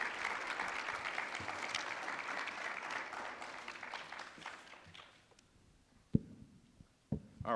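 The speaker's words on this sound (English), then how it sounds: "Let's give Mr. Summers another round of applause," Audience applause for a presenter at a violence intervention conference, steady clapping that tapers off over several seconds, followed by a few isolated thumps and handling noises.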